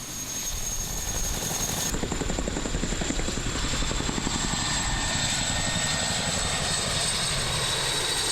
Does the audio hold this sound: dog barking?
no